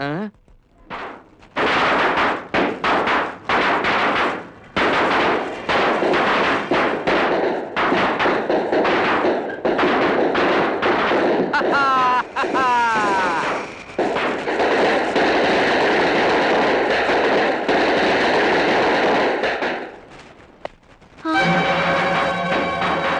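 Flower pot fireworks lit during a festive gathering, a long continuous loud crackling hiss with sharp bangs and pops, mixed with voices talking over it.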